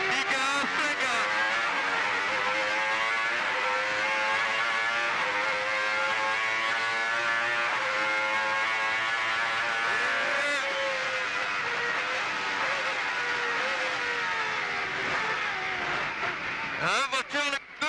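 A Renault Espace F1 on track brakes hard, drops into first gear and accelerates again, its loud, close engine screaming through rising gear changes almost without pause before briefly easing off at the very end.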